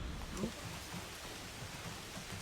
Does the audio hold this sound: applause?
no